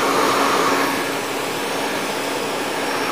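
A hair dryer blow-drying a man's hair for a pompadour style, a steady, loud, close airy whoosh with a constant motor whine and no talk.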